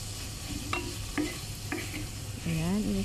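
Shrimp are stirred in a pan with bamboo shoots and coconut cream, giving a few soft scraping stirs over a low steady sizzle and ending in a brief louder scrape.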